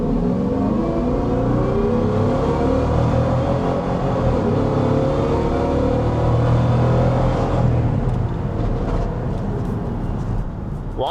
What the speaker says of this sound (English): You can clearly hear the supercharger. It sounds amazing.